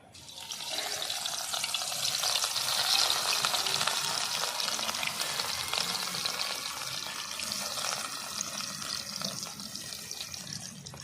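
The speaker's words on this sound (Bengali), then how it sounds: "এক এক করে মাছগুলো ভেজে নি সব" Rohu fish pieces frying in oil, a loud, steady, hissing sizzle that holds without pause throughout, close up and with no talking.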